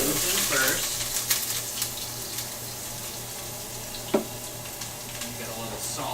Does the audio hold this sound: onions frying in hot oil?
yes